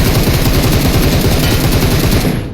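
Loud, rapid automatic gunfire in a one-man squad shooter video game, a continuous dense burst of shots close up that fades at the end.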